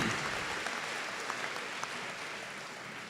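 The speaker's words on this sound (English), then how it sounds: "give yourself a round of applause" Sustained applause from a large crowd at a university convocation ceremony, a dense steady patter of clapping with no voices over it.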